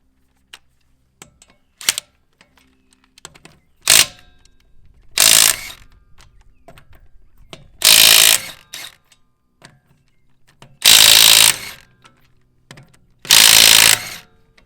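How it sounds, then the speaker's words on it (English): An impact wrench spins lug nuts off the front wheel of a 2015 Ram 4x2 truck, firing five loud, close bursts of rattling hammering, each about a second long, with short quiet gaps between them. "I'll take a lug nut off with the impact"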